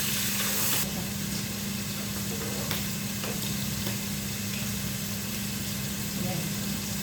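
Chicken pieces frying with ginger in a home kitchen pan until golden brown, giving a steady, continuous sizzle with occasional stirring clinks and a low background hum.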